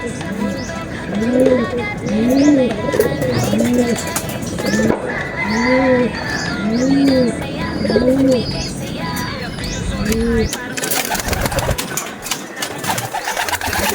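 Racing pigeons coo repeatedly in a soft, rolling rhythm, close by, with a busy outdoor background and a burst of rustling noise near the end.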